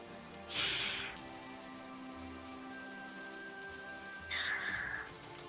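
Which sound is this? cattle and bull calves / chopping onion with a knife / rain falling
rain falling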